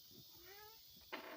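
A cat gives a short, faint meow with a rising, wavering tone, followed by a brief rougher cry.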